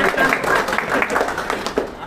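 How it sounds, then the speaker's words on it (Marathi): Audience at a Latur MPSC academy quiz event claps for a teacher, a brief burst of steady, dense applause filling the whole moment with some voices mixed in. "तर एकदा सरांसाठी जोरदार टाळ्या होऊ द्या."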